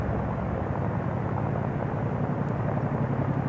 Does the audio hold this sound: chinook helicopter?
yes